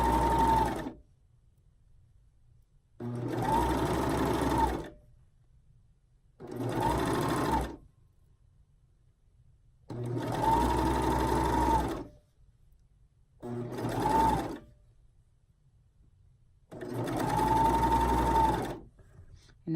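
Six separate bursts of close sewing-machine whirring, each lasting one to two seconds, are divided by quiet pauses as a reversible scoop bikini is stitched.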